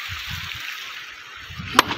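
River water flows and sloshes steadily near people gathering stones in the riverbed, with low gurgling surges and one sharp stone clack near the end.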